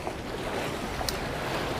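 Sailboat under sail with both sails fully out, making about 4.7 knots: a steady rush of wind and water with no break and no talk.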